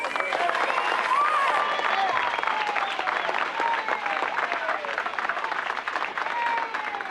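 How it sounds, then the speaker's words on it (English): An audience at a film event gives a big, sustained round of applause, dense steady clapping filling the whole stretch with crowd noise, loud and continuous without pause. "put together a big round of applause for Melvin Van Peebles."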